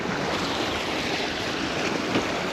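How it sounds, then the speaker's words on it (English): Water sloshing and lapping against a sailing boat and its dinghy on open water, a steady, close wash of broadband splashing mixed with wind noise, with no voices. "you just listen to the sounds of this water against the boat and the dinghy and the wind and the sails"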